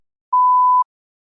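A single clean electronic tone sounds for about half a second from a speaking test prompt, steady in pitch with silence before and after.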